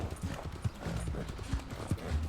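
Rhythmic clip-clop of horse hooves at a quick, steady pace in the video game Red Dead Redemption 2, fairly quiet and even throughout.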